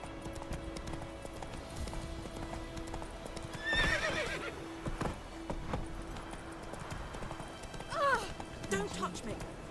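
Horse hooves clip-clop at a gallop in The Witcher 3: Wild Hunt, with whinnies and neighs breaking through loudly around the middle and near the end, set against game ambience and brief voices.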